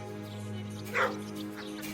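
A trained dog gives a single short bark or yip near the midpoint, moderately loud over a steady low hum with faint background sound.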